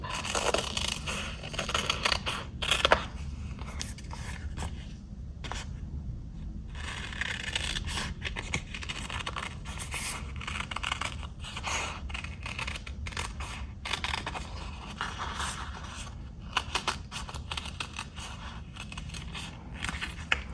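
Scissors snip and scrape through paper as a shape is cut out during a gel printing and washi sticker craft session. The crisp cuts are close and irregular, with faint rustling between them.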